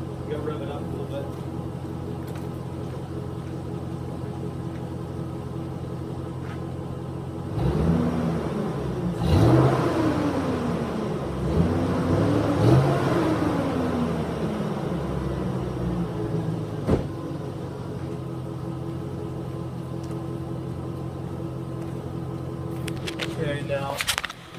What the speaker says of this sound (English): Okay, so I'm gonna rev it up a little bit.